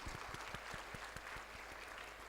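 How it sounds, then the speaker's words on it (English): An audience at the ICSI Yuvotsav 2023 event gives a round of applause for teachers and faculty, a fairly distant, even spatter of clapping throughout. "A big round of applause for all the teachers,"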